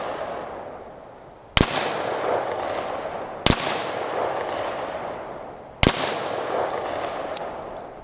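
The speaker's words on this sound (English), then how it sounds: "Bushmaster, and again, we're firing Monarch 55 grain." Three sharp, loud rifle shots from a Bushmaster AR-15 firing Monarch 55 grain ammunition outdoors at a target, spaced a couple of seconds apart, each followed by a ringing echo and a short burst of ambient noise.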